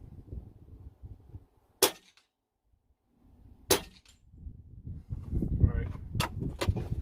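Two sharp, close shots from a Kral Puncher Breaker air rifle firing .22 caliber 40-grain slugs, spaced about two seconds apart, each a crisp crack over low background rumble and handling noise.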